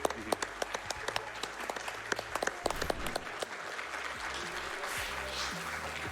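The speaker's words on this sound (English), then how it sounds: "please continue the applause for Moist Rock." A crowd at a speedrunning marathon event applauds, starting with distinct sharp claps and blending into a dense, sustained wash of clapping.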